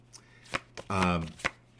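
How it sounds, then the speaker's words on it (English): A deck of cards riffled and shuffled by hand, with several short crisp snaps followed by one longer fluttering riffle, close by in a quiet room with a low steady hum. "I just shuffle through the deck"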